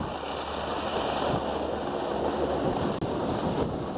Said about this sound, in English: 5 degrees, guys, with a 40 mile an hour wind.